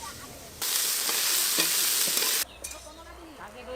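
Vegetables, including cauliflower, fry in a pan at a family New Year picnic. A loud, close sizzle swells for about two seconds while a utensil stirs, then drops back to a quieter hiss with a few scraping clinks.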